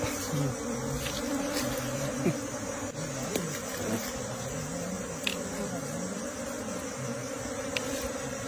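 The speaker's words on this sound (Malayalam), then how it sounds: "തേനീച്ചൊന്നും അല്ല, ആയിരിക്കും മറ്റേ കുളവിയായിരിക്കും. ഇല്ലല്ല, തേനീച്ച." Honey bees buzz close by as small honey is taken from the ground in Kerala, a steady droning hum with wavering pitch as insects fly past, alongside faint background voices.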